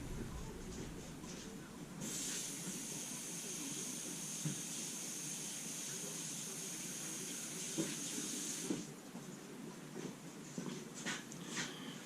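Tap water runs in a steady hiss for several seconds while a kitchen knife is rinsed during backyard sharpening, then stops, leaving faint clinks and rustles.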